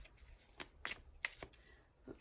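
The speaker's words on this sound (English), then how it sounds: "I have tiny hands, so sometimes shuffling is not the easiest." Tarot cards are shuffled by small hands in a few quick riffling bursts with soft taps between them, close and quiet, with no talking.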